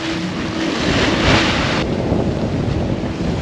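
Wind gusting hard over a sailboat at sea near the Ionian islands of Zakynthos, Cephalonia and Lefkada, a broad continuous roar with wave wash that swells into a louder gust midway and then eases back, with no voices.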